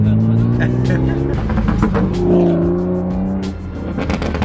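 A fast Toyota Supra accelerates hard, its engine droning loudly and rising in pitch from inside the car while people talk and laugh over it.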